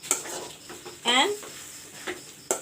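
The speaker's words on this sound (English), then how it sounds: "mix the mash" A spoon stirring mashed potato with salt and saffron in a pan, giving a few short scrapes and soft knocks, close and moderately loud, with a quick clink at the end.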